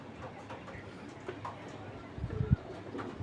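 Racing pigeons of Belgian parentage coo in low, soft murmurs at a pigeon farm, a steady bird bed with a louder cluster of throaty coos near the end.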